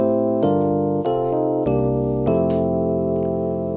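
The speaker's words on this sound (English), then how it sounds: "Now this is electric piano." Electric piano voice on a worship keyboard plays sustained chords with several changes, each new chord struck cleanly and ringing at steady, fairly loud volume with no voice over it.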